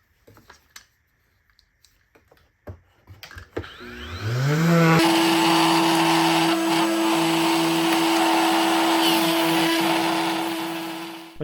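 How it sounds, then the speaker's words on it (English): A Rotex sander starts up and runs steadily, roughly sanding a scrap-wood workshop jig, its motor rising to a loud sustained whine with gritty abrasion over a few light knocks and handling sounds beforehand. "You don't want to try and hold it while you sand it, especially with a Rotex like this that has rough sanding capabilities"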